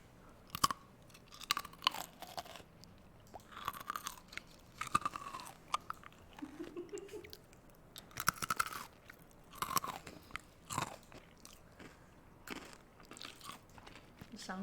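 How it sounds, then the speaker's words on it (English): Close, crisp crunching and chewing of a cheesy stick snack, repeated bites and munches in irregular bursts with quiet pauses, no talking. "Meanwhile, I will ASMR this cheesy stick."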